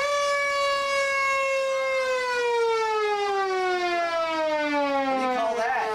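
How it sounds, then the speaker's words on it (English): A fire truck siren at a preschool fire safety demonstration wails loud and close, one long tone sliding slowly downward for about six seconds with no talk over it. "It's called a siren."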